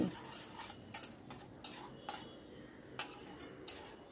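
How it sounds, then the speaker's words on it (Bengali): Garlic is stirred constantly in a pan over a high gas flame, with soft, regular spatula scrapes and clinks over a faint, quiet sizzle. "গ্যাসের ফ্লেমটা হাই করে আমি অনবরত নাড়ছি"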